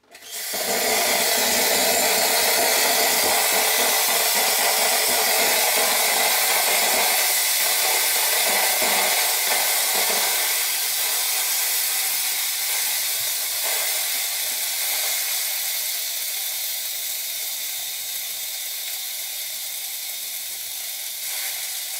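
A Gaggia Classic espresso machine's steam wand purges a continuous, forceful hiss of steam. It starts abruptly and stays loud and close for over twenty seconds, easing slightly toward the end, with no talking.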